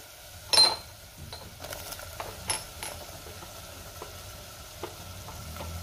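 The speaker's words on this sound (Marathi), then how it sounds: "टोमॅटो सुद्धा मी 1 मिनिटभर परतून घेणार आहे" Ground masala paste with tomatoes frying in a pan: a soft, quiet sizzle broken by occasional sharp utensil clinks and scrapes, one louder knock near the start, no talking.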